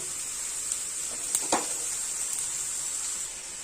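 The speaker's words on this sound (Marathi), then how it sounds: "त्याच्यात आपण ढोबळी मिरची घालूया आणि हे शिजवलेले किंवा वाफवलेले मटार मिक्स करून घेऊया" Diced bell pepper and steamed peas fry in oil in an open pan, giving a soft steady sizzle with a few brief stirring clinks, fairly quiet and close, with no talking.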